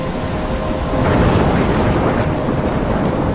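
A dense, loud thunderstorm in the video game Life is Strange, with heavy rain hissing steadily and a deep rumble of thunder swelling near the middle. No voices are heard.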